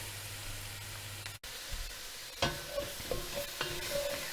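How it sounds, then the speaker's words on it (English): Onions being stirred in a pot with little fat for a Polish stew, giving a low sizzle with a few close scraping and clinking strokes of the spoon against the pot. "we're just going to give that a little bit of a stir until the onion starts to brown a little bit"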